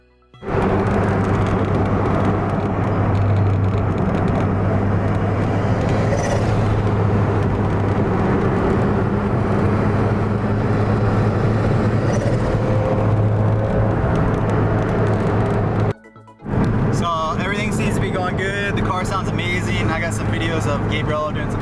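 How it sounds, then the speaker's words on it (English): A Mitsubishi Evo race car makes loud, sustained engine passes at a track, with a steady low drone holding for long stretches before a brief drop. Voices speak over the engine noise. "the Evo sounds amazing"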